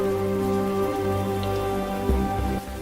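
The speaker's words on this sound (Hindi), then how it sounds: "बारिश हो रही है." Rain in the video game Age of Water falls in a steady, even patter alongside a sustained tonal backdrop, with a couple of soft knocks near the end.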